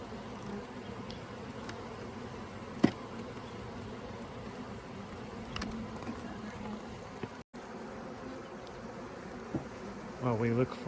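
Honeybees hum in a steady, dense drone at an open queenless beehive, close and continuous throughout, with a few brief knocks and a short sharper buzz near the end.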